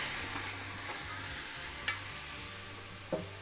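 Garlic sizzles steadily in a hot pan while salmon chowder is being cooked at home, a constant frying hiss with a couple of faint clicks and stirring knocks, no talking.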